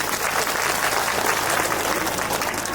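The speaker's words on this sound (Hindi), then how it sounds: "आ जाओ फिर भैया, बहुत ताली बजा दो भैया।" An audience at a Bhagavat gathering claps loudly and steadily, a thick, even wash of many hands close by.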